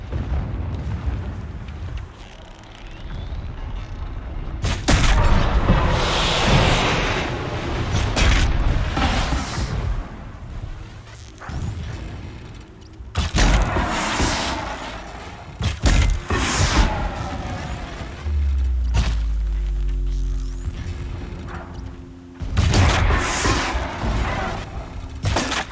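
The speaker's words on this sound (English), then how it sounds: "Explosions in the distance." Distant explosions in Horizon Zero Dawn roll in as heavy booms and rumbling bursts, several loud blasts arriving in waves with low thuds between them.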